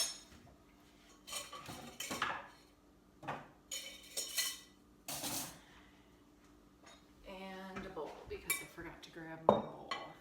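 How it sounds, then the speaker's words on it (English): Knives and utensils clink and clatter in a kitchen as a different knife is picked up while cutting watermelon, a series of close, sharp metallic taps and rattles, with soft talk in places. "so I'm gonna grab a different knife here"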